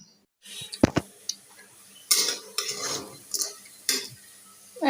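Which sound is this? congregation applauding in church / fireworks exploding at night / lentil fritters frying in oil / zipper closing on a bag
lentil fritters frying in oil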